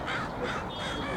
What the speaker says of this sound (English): These damn crows. What are they up to?